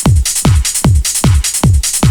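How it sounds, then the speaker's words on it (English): House drum loop from a Techno Trance Essentials sample CD: punchy kick drums thump on a steady four-on-the-floor beat, each layered with crisp hi-hat and snare hits, repeating loud and dry with no voice over it. "So the first thing we're working with here is a house drum loop here."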